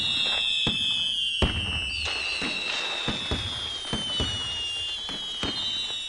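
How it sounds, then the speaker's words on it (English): Fireworks go off at a Vaisakhi parade: a series of sharp, irregular bangs and crackles, roughly one every second, with high whistling tones streaking over a steady crowd-like background. "some people have fireworks."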